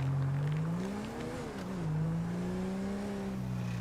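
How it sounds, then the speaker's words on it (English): A car engine in the video game GTA V with a failing catalytic converter, a steady low droning rumble that rises and dips slightly in pitch as it revs, loud and close throughout. "my car sounds like the catalytic converter's falling off"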